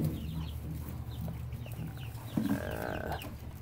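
Easter Egger chickens cluck softly nearby in a coop, with scattered calls and one brief louder squawk over low background noise.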